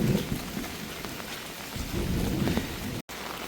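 Heavy rain pours steadily in Jaffna, a dense close hiss of drops hitting surfaces, with a low rumble underneath and no voices.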